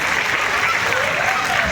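Audience applause welcoming two guests onto a stage in Gujarat: thick, even clapping from a large crowd, loud and unbroken across the whole stretch.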